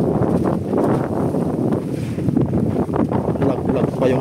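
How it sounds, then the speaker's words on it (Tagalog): Strong wind gusts outdoors roar and buffet the microphone continuously, loud and close, with faint voices mixed into the rumble. "Lakas ng hangin."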